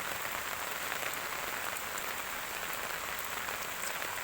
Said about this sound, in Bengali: আমাদের এখানে সকাল থেকে বৃষ্টি হচ্ছে, প্রচণ্ড বৃষ্টি হচ্ছে